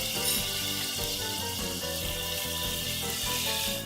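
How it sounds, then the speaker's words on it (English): Two cloves' worth of garlic sizzle in melted butter in a pan for Cajun seafood pasta, giving a steady, close frying hiss with faint clinks and tones underneath. "after your butter's melted, go ahead and add about 2 cloves worth of garlic. And you're just going to let those simmer"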